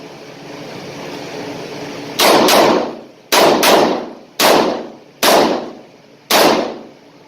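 .357 Magnum revolver fired offhand at 5 yards, five loud sharp reports with echoing decay spaced about a second apart, the first a quick double, over steady outdoor background noise and no talking.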